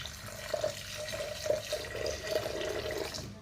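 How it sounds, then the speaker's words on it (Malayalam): Water is poured into a blender jar over fresh mint leaves for a mint drink, a soft, fairly faint trickling and splashing stream with small gurgles, steady for a few seconds with no voices. "ഇനി കുറച്ച് വെള്ളം ഒഴിച്ചെടുക്കാം"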